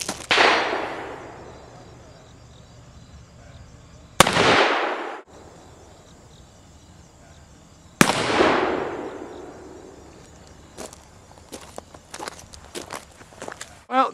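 Three loud, sharp reports from a Ruger Old Army 7.5-inch black powder revolver loaded with a round ball over 40 grains of Goex 3F, evenly spaced and echoing outdoors, followed by light clicks and handling noise.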